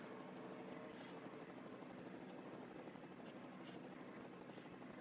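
A helicopter hovers above a Pocono truck race, its steady droning rotor and engine noise continuous and fairly faint, with no talk over it.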